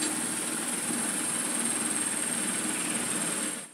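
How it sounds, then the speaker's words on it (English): A model helicopter motor and rotor head for a V-22 Osprey build spin on a pivoting single-axis test rig, giving a steady, loud whirring drone with a high electric whine that runs unbroken before cutting off abruptly at the end. "I've built a test rig that allows the motor and rotor head to pivot in one axis"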